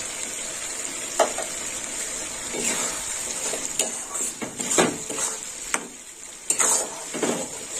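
A spiced shrimp curry mixture sautés in a pan, sizzling continuously up close while a utensil scrapes and knocks against the metal in irregular stirring strokes, with no talking.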